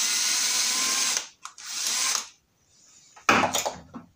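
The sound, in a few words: unscrewing a plate on Honda GCV lawnmower carburetor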